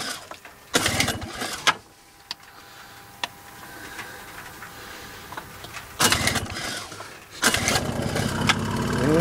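A 2-stroke petrol backup generator is cranked, sputtering through short bursts before catching and running noisily near the end, with quieter ticking in between.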